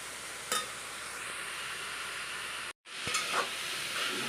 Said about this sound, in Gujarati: ખમણેલું ગાજર આમાં એડ કરી દેવાનું અને મિક્સ કરી લેવાનું ઘી સાથે।